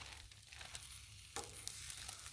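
Cabbage, carrots and onion sizzle on a Blackstone griddle, a faint, steady hiss with a few soft scrapes and pops, no talking.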